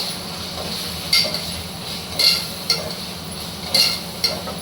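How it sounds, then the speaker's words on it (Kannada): Curry leaves frying in a pan with onion and spices, a soft steady sizzle broken by several sharp metallic clinks of a spoon stirring against the pan. "ಈ ಕರಿಬೇವು ಹಾಕ್ಕೊಳ್ಳೋಣ. ಅದು ಸ್ವಲ್ಪ ರೋಸ್ಟ್ ಆಗಿ ಫ್ರೈ ಆದಮೇಲೆ ಮಿಕ್ಕಿದ್ದನ್ನು ಆ್ಯಡ್ ಮಾಡ್ಕೊಳ್ಳೋಣ"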